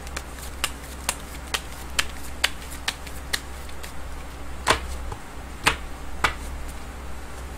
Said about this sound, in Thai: เดี๋ยวจะมาเสี่ยงไพ่24ดูให้เพิ่มเติม